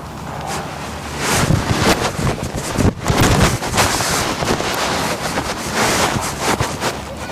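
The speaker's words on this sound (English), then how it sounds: "little bit of a gust." Steady wind buffets an outdoor microphone in a continuous loud roar with a few stronger surges while a kite flies in light wind. No voices are heard.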